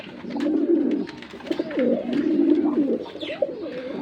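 Domestic pigeon, a lively male, coos repeatedly while held in hand, its low rolling calls rising and falling in close, steady bursts with brief pauses between.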